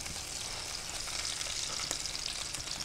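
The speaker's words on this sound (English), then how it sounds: "So now we let it saute a little bit on the other side" Meatloaf sizzles steadily in a non-stick pan as it sautés on its second side, a close, even frying hiss with faint crackles and no voices.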